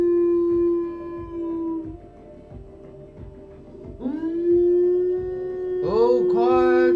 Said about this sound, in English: the most impressive thing about this particular wolf's howl